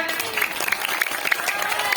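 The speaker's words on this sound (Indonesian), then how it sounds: "Mana tepuk tangannya?" Schoolchildren at an elementary school fire safety demonstration by firefighters clapping in a lively, dense burst, with voices mixed into the applause.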